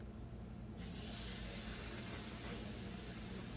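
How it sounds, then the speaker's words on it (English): Coconut oil sizzles in a hot pan on a stove, a steady, close hiss that swells louder after the first second and stays constant, with no talking. "You hear that sizzle?"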